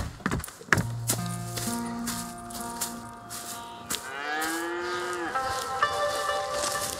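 Cattle low on a farm in Red Dead Redemption 2, with several deep, drawn-out moos from nearby animals spread across the moment, along with a few soft hoof and footstep sounds in between.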